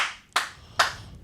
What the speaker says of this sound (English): Clapping back in.